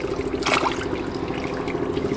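Water trickling and splashing steadily during a cooling system flush on a 1988 Isuzu Trooper, a continuous close pour running alone with a low hum beneath.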